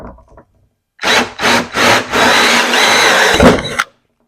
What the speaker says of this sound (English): I wished I had a hole saw that was a little bigger, but we can use this one to get us going.